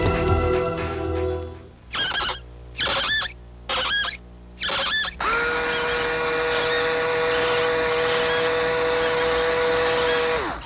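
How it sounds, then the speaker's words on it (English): A Skil Twist cordless power screwdriver in a late-1980s TV advert gives several short whirring bursts, then one long sustained high-pitched whine. It is loud and close, with no talking. "The Skill Twist cordless power screwdriver."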